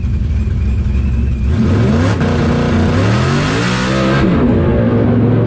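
Methanol-fuelled drag car on 30 psi boost launching off the trans brake, engine roaring loud and close with rising, stepping harmonics as it pulls hard, heard from inside the car.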